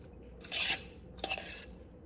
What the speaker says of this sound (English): I'm gonna take another spoon and see how fluffy the rice is